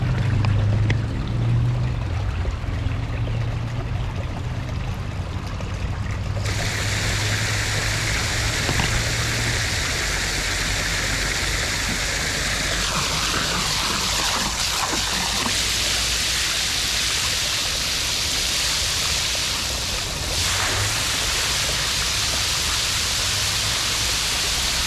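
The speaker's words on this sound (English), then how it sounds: "Just simply using a hose pipe and spraying water in through a mister like that" A hose pipe fitted with a mister sprays fresh water into a garden fish pond, a steady, close hiss of spray and splashing that runs continuously, shifting slightly in tone partway through.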